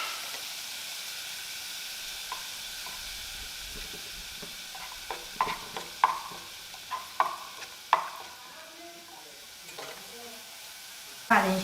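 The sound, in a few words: stirring quinoa fried rice with egg whites in a pan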